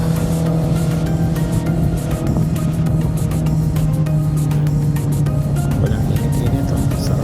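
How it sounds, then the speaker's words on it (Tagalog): Motorcycle riding along a road with a steady, loud engine drone and wind rush throughout, close and continuous with no pauses. "Sarap talagang mag-motor."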